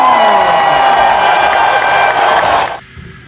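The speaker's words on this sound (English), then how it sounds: "Let's give Ruby a massive Newton round of applause" A school celebration assembly erupts in loud clapping and cheering from children, a bright sustained roar that cuts off abruptly near the end.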